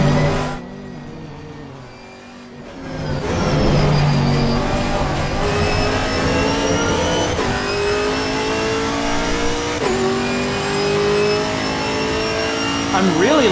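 Chevrolet Camaro race car in Assetto Corsa Competizione, engine revving and climbing through repeated upshifts, loud and close, with someone talking over it.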